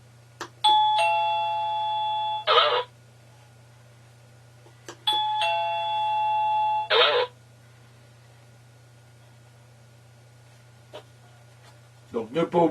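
An OxyLED D01 wireless doorbell chime rings twice, each a sustained electronic two-tone melody of about two seconds, separated by a pause, over a steady low hum.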